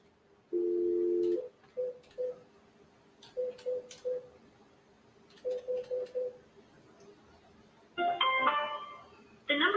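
Telephone intercept tones for a non-working number: a long steady tone, then clusters of short beeps, ending in a rising three-note sequence, heard clearly with no voice.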